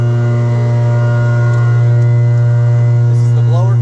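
A blower on an air sparge and soil vapor extraction skid runs with a loud, steady, unbroken hum, close and constant throughout.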